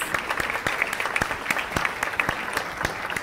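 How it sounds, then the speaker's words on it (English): A State of the City event audience gives a round of applause, a dense, steady patter of many hands clapping with a few sharper claps standing out near the front. "Let's give her a round of applause."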